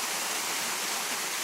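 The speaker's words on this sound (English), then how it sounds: "that top there is a real waterfall, probably 20 or 30 foot." A real mountain waterfall near Kapiti, New Zealand, about twenty to thirty feet high, roars as a constant, loud, broadband rush of falling water with no pauses or other sounds.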